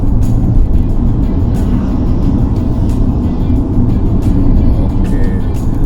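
A Chery Tiggo 8 Pro driving on a busy toll road gives a loud, steady low rumble of engine and road noise from inside the cabin, with smooth acceleration and no audible gear shifts.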